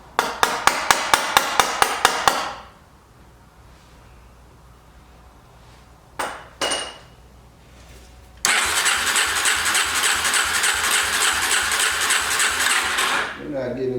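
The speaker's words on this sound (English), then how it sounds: "Tap on the carburetor a little bit." Tapping on the carburetor of a 2004 Yamaha TTR 250 dirt bike whose drain screw is stripped, heard as a quick run of about eight sharp metallic taps, then quiet, a couple of brief knocks, and a loud sustained mechanical whir.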